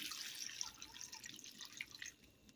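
Water poured into a soup pot for Swiss barley soup, a steady faint splashing and trickling with dripping accents, heard alone without voices.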